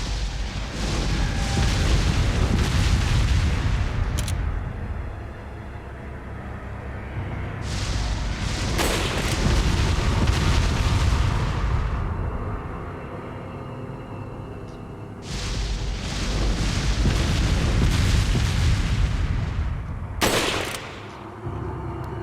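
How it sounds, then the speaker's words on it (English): Explosive barrel blasts in the video game Resident Evil 4, loud, dense booms and rumbling detonations that swell in long waves over about twenty seconds, with sharp gunfire cracks in between. "I think also probably a shot that explosive barrel"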